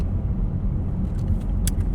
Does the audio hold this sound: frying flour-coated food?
no